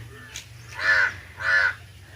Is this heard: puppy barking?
no